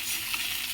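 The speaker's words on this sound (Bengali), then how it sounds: "এটাকে কিছুক্ষণ ভেজে নিতে হবে ভালো করে, এরকম নাড়াচাড়া দিয়ে," Katla fish head frying in a pan and being stirred, a steady close sizzle with faint scraping, brief and fairly quiet.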